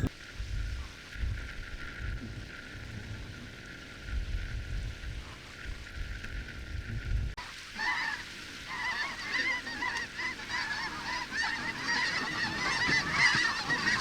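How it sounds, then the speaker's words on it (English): A flock of snow geese honks overhead during a duck hunt at the end of a winter storm, many overlapping high calls building in loudness, after a stretch of quieter low rumbling. "I had a bunch of snow geese fly right above me."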